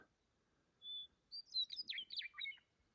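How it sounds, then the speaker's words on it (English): A bird of open sagebrush country sings a cheerful, warbling phrase preceded by a single thin whistled note, clear but moderately distant in otherwise quiet surroundings. "It's my favorite sagebrush country bird."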